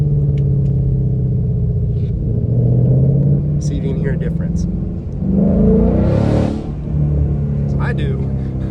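Ford Mustang engine in track mode, a steady deep rumble that swells as it revs, with a short hissing burst partway through and a voice talking over it.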